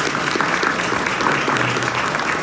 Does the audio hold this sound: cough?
no